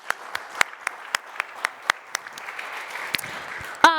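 Thin, scattered audience clapping for start-up award winners at an energy transition awards event, a handful of distinct claps spaced irregularly and fairly faint, ending with a brief tonal sound.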